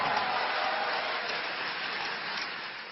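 Steady applause from an audience right after the Prime Minister's remarks on India's UPI in France, a dense even patter of many hands that holds loud throughout and eases slightly toward the end, with no voices above it.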